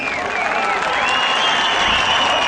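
Crowd applause for the AK Parti mayoral candidate for Kula at an evening campaign rally, a dense steady wash of clapping with some cheering and voices mixed in throughout.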